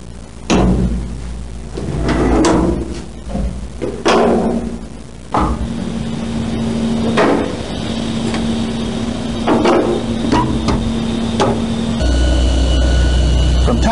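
Heavy airlock doors on a mobile launch platform at Kennedy Space Center, opened and closed in sequence: several loud metallic clunks and slams with latch clatter, ringing in a machinery hum, close by, no talk.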